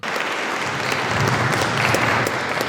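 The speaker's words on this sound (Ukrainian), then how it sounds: "викликала щирі усмішки і оплески у залі" Steady applause from a large audience fills the concert hall after a municipal choir performance, dense clapping holding at an even loudness throughout with no voices standing out.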